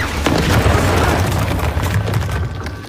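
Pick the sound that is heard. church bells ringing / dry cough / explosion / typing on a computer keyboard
explosion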